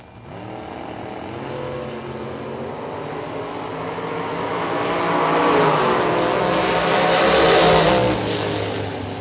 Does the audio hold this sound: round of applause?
no